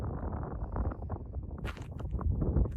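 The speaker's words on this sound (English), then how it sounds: "It's kind of windy, of course" Steady low wind buffeting the microphone, a rough continuous rumble with brief gusty bursts, heard outdoors with no voices, on a winter mountain top at Flatruet in northern Sweden.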